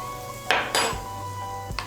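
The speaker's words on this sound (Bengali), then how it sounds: "তেলটাকে আমি ভালো করে ব্যাটারের সঙ্গে মিশিয়ে নেব" A spoon mixing a little oil into batter in a bowl, producing two short scraping clinks close by, then quiet, then one more light clink.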